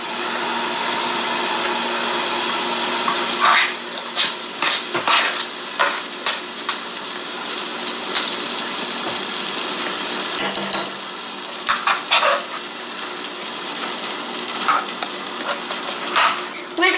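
Four tablespoons of butter melting in a pan on a stovetop, giving a steady, loud sizzle and hiss with occasional scraping and stirring clicks throughout.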